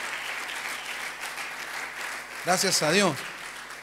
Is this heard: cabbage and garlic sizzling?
no